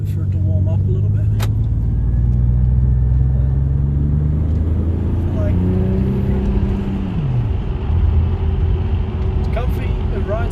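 Twin turbo Toyota Aristo idling to warm up, a steady low engine rumble heard from inside the car, with people talking over it throughout.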